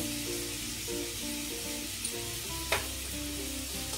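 Spices fry in a pan for a moong dal and spinach dish, giving a steady, close sizzle with faint stirring scrapes and a brief clatter near the end, no talking.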